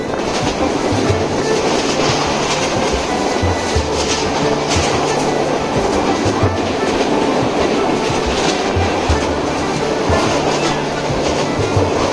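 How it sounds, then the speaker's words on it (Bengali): A train at Feni railway station gives a loud, steady rumble with a repeating clickety-clack of wheels on rails running through the whole stretch, with no voices. "ফেনী স্টেশনে ট্রেন দাঁড়িয়েছে"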